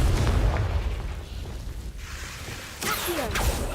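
In Hogwarts Legacy, a Confringo spell blast gives a sustained, low explosive rumble that swells and dies back. A sharper burst then flares up near the end, loud and close, with no voices.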